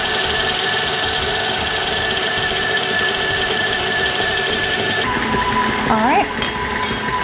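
An electric mixer stirs a diabetic-friendly batter with a constant whirring hum, close and steady, then whines briefly as the pitch shifts. A voice speaks briefly near the end.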